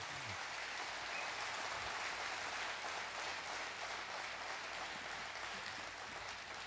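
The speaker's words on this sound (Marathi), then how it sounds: "त्या जोरदार टाळ्या झाल्या पाहिजेत एकदा" Applause from an audience at a lecture series event, a dense, continuous wash of clapping held at an even level throughout, distant-sounding and with no voices on top.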